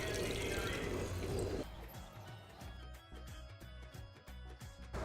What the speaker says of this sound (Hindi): 1 गिलास पानी ऐड कर दें।